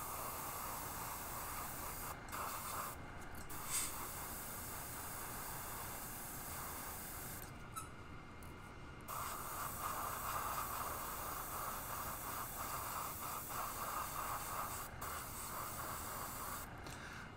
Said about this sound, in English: the lure and spraying kind of in an upward direction with the effort to blend the white and the Titan buff